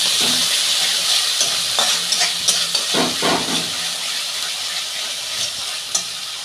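Katla fish masala paste sizzles and fries steadily in a pan, with a string of soft scraping stirs and clicks from the spatula cutting through the hiss at close range.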